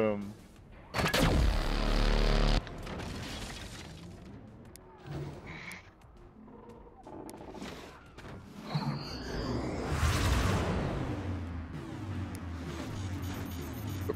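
Mortars fire in the video game Forts: heavy booming launches and explosive blasts, with one loud burst early and another swelling later over rumbling battle noise, while people talk throughout.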